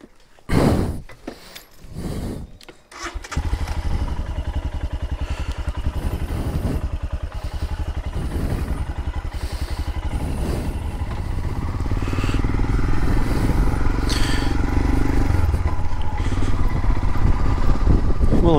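Royal Enfield Himalayan motorcycle starting off and riding home along country roads, the single-cylinder engine thumping steadily and loud up close, building gradually as it gets under way after a few clunks at the start.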